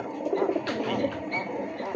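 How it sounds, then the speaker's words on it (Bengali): A pair of black pigeons with white tiger-pattern speckles coo softly around a clay pot nest, their low rolling calls near and continuous with faint voices behind. "দুটাই হাঁড়ির ভিতরে চলে গেছে কবুতর জোড়া।"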